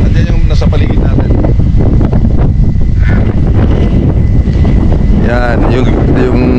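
Strong gusty wind on a foggy mountainside, buffeting the microphone loudly and continuously, with a person talking over the roar.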